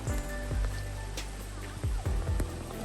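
Rain falling on a mountain trail at Seorak mountain in South Korea, a steady broadband hiss with several dull thumps and knocks close by.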